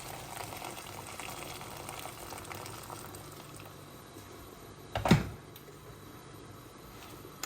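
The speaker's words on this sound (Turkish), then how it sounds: "Suyum kaynadı." Water bubbles and simmers steadily in a pot, a soft continuous boiling hiss close by, with a brief louder clank partway through.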